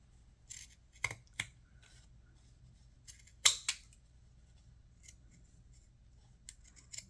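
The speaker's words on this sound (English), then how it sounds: "getting my pinking shears, and I'm just gonna go along the edge like that" Pinking shears snipping along the edge of sewn fabric: a handful of sharp, close crunching cuts spaced irregularly over several seconds, quiet and alone with no talk.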